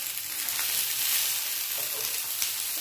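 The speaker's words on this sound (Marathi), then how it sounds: "आता हे आपण या साईडनं भाजून घेणार आहोत" Colocasia leaf rolls (alu vadi) sizzle in a pan with only a spoonful of oil on a gas stove, a steady, close hiss of frying with a faint crackle, no talk.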